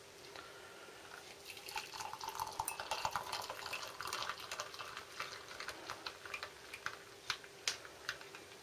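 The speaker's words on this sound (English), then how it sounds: "And now we'll add some hot water." Hot water poured onto small, powdery instant coffee granules from a U.S. MRE Menu 10 ration, a faint trickling splash that builds and then ends in a few scattered drips and taps.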